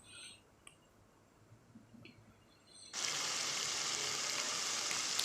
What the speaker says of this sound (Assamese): আমি এইখিনি মছলাখিনি ভালকৈ ভাজি ল'ম তেল ওলোৱালৈকে।